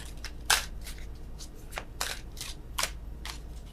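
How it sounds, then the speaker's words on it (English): Tarot cards shuffled by hand in uneven bursts of crisp riffling and slapping, close up, with no talking. "worst shuffling in the world."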